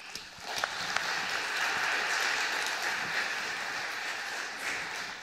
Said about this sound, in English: a big round of applause to our wonderful host